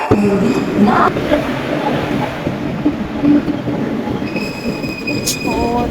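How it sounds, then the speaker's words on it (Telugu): A train rumbles along steadily with clattering wheel noise and metallic squeals, a sharp high whine rising briefly near the end. "ట్రైన్ ఎక్కేసి స్టార్ట్ అయిపోయాను మా ఊరికి"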